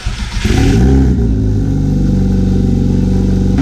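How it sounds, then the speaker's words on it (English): A Toyota Supra MK4 with a fender dump exhaust barks to life and revs hard, a loud, raspy, pulsing engine drone that holds steady close to the car. "this dude's got a sick exhaust"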